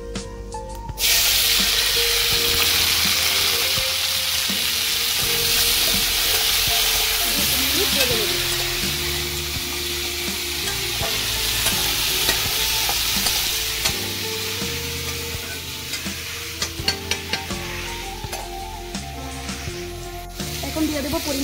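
Ripe tomatoes fry in mustard oil with dried red chillies and five-spice for a chutney, giving a steady, loud sizzle with frequent stirring scrapes throughout and faint background music.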